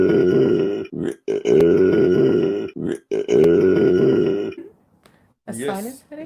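A woman burps repeatedly in loud, drawn-out, voiced belches separated by short pauses, followed by a brief bit of talking at the end.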